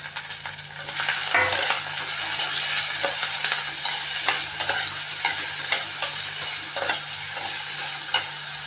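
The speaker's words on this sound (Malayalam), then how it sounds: "നമുക്കതിൽ സവാള ഇട്ട് 2 എണ്ണം വാട്ടാം." Onions sautéing in oil for a dried prawn curry, a continuous close sizzle dotted with light, irregular stirring taps and scrapes of a utensil on the pan, no voices.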